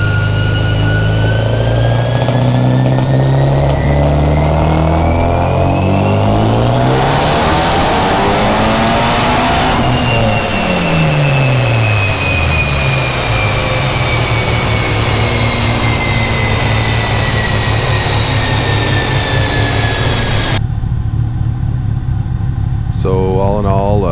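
A Mitsubishi Evo 5 running E85 fuel and turned up to 33 psi boost, loud on a dyno pull, the engine roaring as revs climb steadily, then cutting off abruptly near the end.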